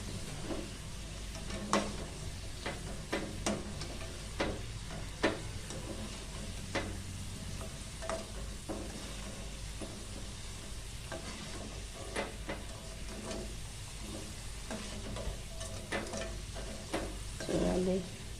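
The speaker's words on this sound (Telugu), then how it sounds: "శబ్దం వస్తుంది ఇవి వేయించుతుంటే అంతలకే క్రిస్పీగా" Potato french fries frying in hot oil give a continuous close sizzle dotted with sharp crackles and pops throughout.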